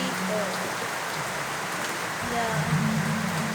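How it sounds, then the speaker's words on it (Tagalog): Rain pattering steadily on nearby surfaces, a dense close hiss with a low hum rising beneath it partway through. "Umuulan dito guys."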